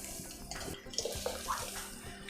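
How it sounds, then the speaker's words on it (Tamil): Water poured from a cup into a pot for cooking jaggery with chana dal, a short soft splashing pour at low volume in a home kitchen. "2 தண்ணி ஊற்றிக்கிறேன்."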